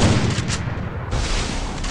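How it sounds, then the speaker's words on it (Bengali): AWM sniper rifle fire in a video game: loud, booming gunshots sustained across the moment, with a short dip in the middle before another heavy report, and no talking. "তো এখন আমি স্নাইপার AWM নিয়েছি"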